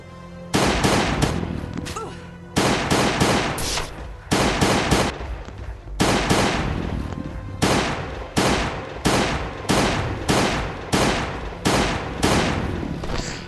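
Firearm gunfire in the Last Day on Earth video game: loud, close bursts of rapid shots repeat in quick rounds with brief pauses between them, running throughout without talking.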